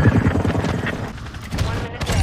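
Chopper gunner killstreak in Call of Duty Modern Warfare 2: a helicopter gunship firing rapid rattling bursts over a throbbing rotor drone, with excited talk over it.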